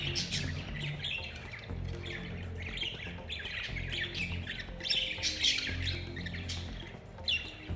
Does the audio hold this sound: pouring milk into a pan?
no